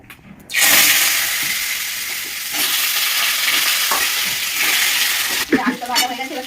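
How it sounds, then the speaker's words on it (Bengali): Potatoes fry in a pan, setting off a loud, continuous sizzle right after they hit the hot oil, with some stirring and clatter near the end. "আলুটা ভাজা হয়ে গেছে"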